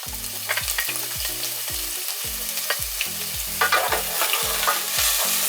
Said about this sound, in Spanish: y luego doramos nuestra cebolla